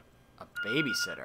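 An answering machine on a phone in The Walking Dead video game gives out repeated short beeps, clear and close, with a voice speaking over the start.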